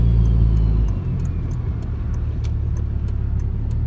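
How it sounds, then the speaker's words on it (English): A car drives up close behind, its engine rumbling loud at first and then settling into a steady low drone, with faint clicks over it. "Of course we got a fucking car behind us."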